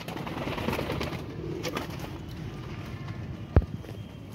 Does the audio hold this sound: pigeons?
yes